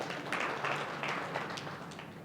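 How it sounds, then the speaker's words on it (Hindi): Applause from an audience at a Buddhist vihara cultural gathering in Amravati, a fairly quiet, steady patter of many hands lasting a couple of seconds. "जोरदार तालियां इनके लिए"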